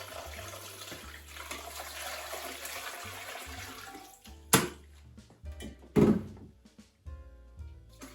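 Warm water pours into a canning pot over glass jars for water bath canning tomatoes, a steady splashing gush followed by a couple of hollow thunks and trickles, close by.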